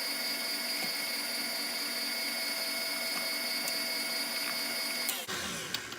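An electric mixer whirring through sweet potato pie filling with white sugar: a loud, steady mechanical whine that holds for about five seconds and then cuts off abruptly.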